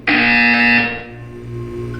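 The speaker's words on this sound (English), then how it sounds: "You will hear a buzzer." A loud electronic buzzer sounds in the video game Portal 2, one harsh sustained blare that starts abruptly, holds for about a second, then fades into a lingering hum.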